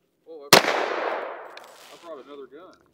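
A single loud, close gunshot from a Sig Sauer X10 pistol firing 1776 10mm ammunition during a velocity test, with a sharp crack and a long decaying tail, and voices talking briefly before and after.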